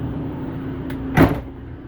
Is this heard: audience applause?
no